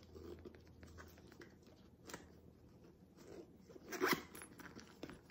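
Zipper on a handmade Dooney & Bourke–style crossbody bag being pulled close by, giving quiet scratchy rasps with a louder, sharper zip burst toward the end and no talking.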